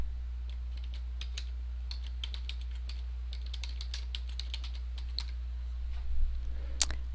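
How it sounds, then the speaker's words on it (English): Steady clicking of keystrokes on a computer keyboard while text is entered in an image editor, irregular bursts of taps close to the mic over a low constant hum, with a slightly louder cluster near the end. "I just choose the text tool and type in the text."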